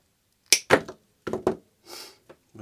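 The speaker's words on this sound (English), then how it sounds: "let's cut the cable" A power cable on an IBM Aptiva monitor being cut through, giving a few sharp, close crunching snips separated by brief pauses, with no talking.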